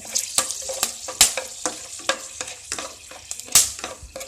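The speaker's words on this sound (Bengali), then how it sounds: "ওই ভাজা তেলের মধ্যেই আমি গোটা গরম মশলা দেবো" Whole cardamom pods, cloves and cinnamon sticks frying in hot oil in a pan, with a steady sizzle broken by sharp, irregular scrapes and clinks of a spatula being stirred, close and fairly loud.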